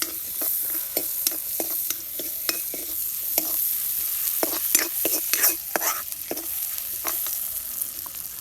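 Boal fish curry frying and being stirred in a pan, with repeated scraping strokes of a spatula over a steady sizzle, close and moderately loud, no talking.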